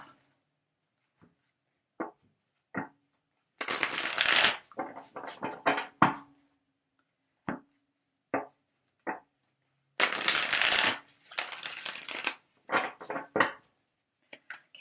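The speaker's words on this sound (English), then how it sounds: "the way I do my card readings is I shuffle till one card falls out" Tarot cards shuffled by hand during a card reading, two loud rushing riffle bursts separated by sparse soft taps and slides of the deck, close up with no talking.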